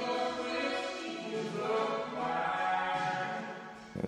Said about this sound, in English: Here's the regular plate reverb with the modulated reverb on top.